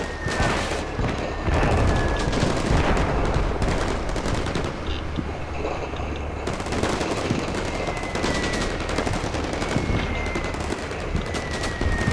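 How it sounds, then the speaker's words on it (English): Combat in Combat Mission: Shock Force, with continuous rattling machine-gun bursts and scattered gunshots, plus low booms of artillery falling on a sniper team's flank, loud and dense throughout, with no talking. "my sniper team on the left flank is getting hit by artillery"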